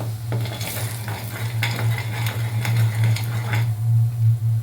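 Chili and coriander powder stirred and fried in a pan, a steady near sizzle with scraping spoon strokes against the metal over a constant low stove hum, no voices.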